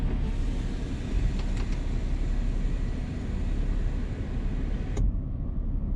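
Steady electric motor hum of the sunroof mechanism opening in a Mercedes-Benz C300 W204 sedan, running evenly for about five seconds before stopping with a sharp click.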